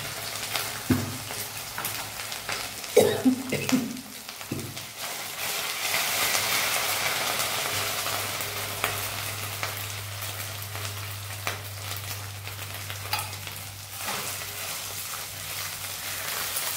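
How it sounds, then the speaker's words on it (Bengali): Ginger and green chili frying with coconut in a hot pan, a steady close sizzle with a few louder stirring scrapes near the start, running alone without talk. "একটু ভেজে নিই।"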